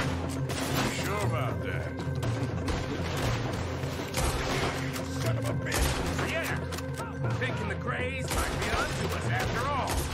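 Gunfire rings out in Red Dead Redemption 2 during a shootout, with repeated sharp shots and crashes over dense game sound, while people talk throughout.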